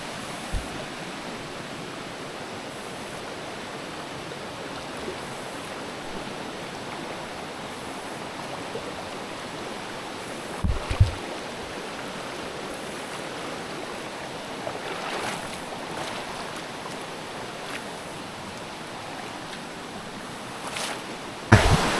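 Steady, broadband rush of the Jet Kot waterfall in Saraburi, its water pouring continuously without pause, with a few brief knocks and handling bumps near the end.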